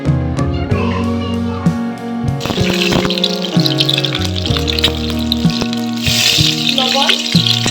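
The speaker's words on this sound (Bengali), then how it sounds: "ডিমগুলো সব ভাজা হইব এখন।" Eggs fry in oil in a wok, popping and hissing loudly up close, with the crackle swelling as they hit the fat and scattered clinks of a spatula against the metal.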